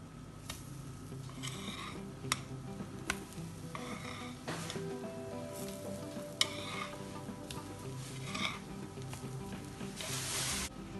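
A pancake sizzles steadily in a hot frying pan just after being flipped, with occasional light clinks of a utensil against the pan, close and quiet, no voices.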